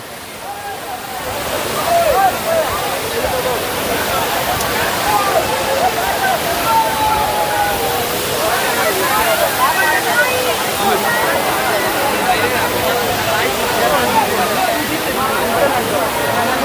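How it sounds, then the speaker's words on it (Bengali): Mayabi Jhorna waterfall at Jaflong, Bangladesh, roars steadily and loudly, a constant rushing wash that fills the scene from start to finish. "এটাই মায়াবী ঝর্ণা আমরা এখন মায়াবী ঝর্ণার সামনে আছি"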